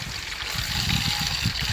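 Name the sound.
water being poured into a container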